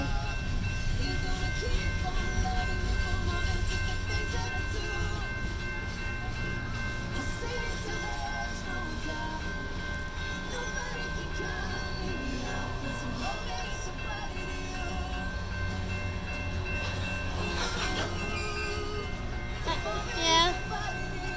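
A CSX freight train with two locomotives and a distributed power unit rumbles past continuously, a steady low roar with tonal squeals and a faint horn near the end, while people talk nearby.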